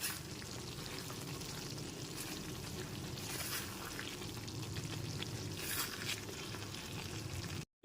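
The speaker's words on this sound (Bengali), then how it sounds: "এরপর এতে দিয়ে দিচ্ছি হাফ টিস্পুন গরম মশলা গুঁড়ো" Chicken kosha frying in a pan as garam masala powder is mixed in, a steady low crackling sizzle with faint stirring, even and fairly quiet, ending abruptly.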